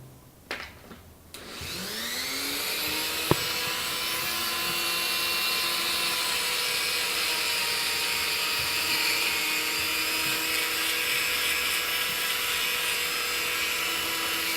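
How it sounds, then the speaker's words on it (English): A Dremel grinding wheel spins up and grinds down a screw from a Crosman 2240 airgun, a rising whine that settles into a loud, sustained high-pitched grind close by, after a few clicks at the start. "which is this grinding wheel"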